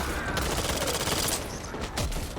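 Rapid gunfire in Back 4 Blood, a co-op zombie shooter, crackles in a dense, continuous burst of overlapping shots over a couple of seconds, loud and up close.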